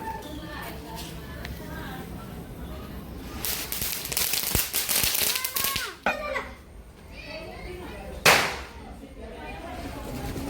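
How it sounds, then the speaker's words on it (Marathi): Firecrackers set off at a Diwali-season Tulsi wedding celebration give several sharp cracks and a crackling burst, with children's voices and chatter around them at close range. "तर चला आता फटाके वाजवायला सुरुवात करतोय"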